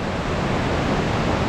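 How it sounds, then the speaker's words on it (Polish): Strong stream of water gushing inside Devil's Throat Cave in Bulgaria, a steady loud roaring rush with no breaks. "Silny strumień stamtąd bije."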